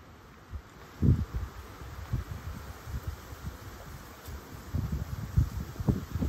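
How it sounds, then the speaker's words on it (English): Gusty wind blowing at a beachside spot during a storm with a power outage, rising and falling in low rumbling buffets that strengthen near the end, with no voices. "the gusts of wind."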